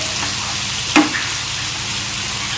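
Fish frying in a pan of hot oil, after a brief stir, gives a loud, steady hissing sizzle with a single utensil knock about a second in.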